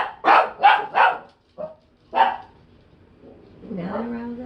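A loud house dog barks in a rapid burst of three close barks, then a couple more sharp barks after short pauses, followed by a whining, yelping vocalization at the end.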